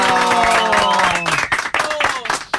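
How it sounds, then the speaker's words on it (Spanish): Studio audience applauds and cheers for Antonio during a radio-show broadcast, a burst of clapping mixed with a sustained held tone and voices that fades into scattered claps. "un aplauso para Antonio"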